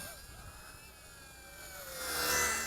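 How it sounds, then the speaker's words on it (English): A small Eachine E130 beginner RC helicopter flies with a thin, high whine from its rotors, faint at first and then rising as it nears. "No, this is not a super fast helicopter, folks."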